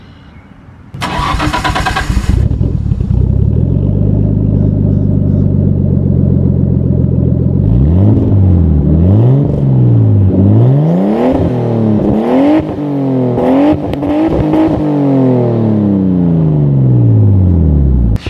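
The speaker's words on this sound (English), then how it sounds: "Now I posted a video a while back of the exhaust on this car." A Nissan R32 Skyline's inline-six starts with a sharp crank, then idles and rises into repeated loud revs, each climbing and falling in pitch, close and continuous.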